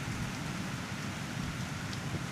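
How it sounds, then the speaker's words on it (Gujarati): Heavy downpour over rural Rajkot district in Saurashtra, a steady dense roar of rain on surfaces filling the whole stretch evenly, with no voices. "રાજકોટ જિલ્લાના ગ્રામ્ય વિસ્તારમાં ધોધમાર વરસાદ જોવા મળ્યો"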